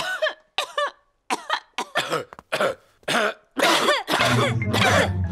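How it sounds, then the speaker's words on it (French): A cartoon character's run of repeated coughs and throat-clearing hacks, short bursts in quick succession that grow louder and rougher toward the end. "C'est à présent au tour des adultes d'attraper la toux de Pedro."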